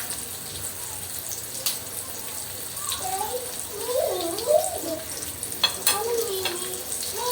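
Steady oil sizzle and crackle from chicken frying, with a faint voice rising briefly over it midway.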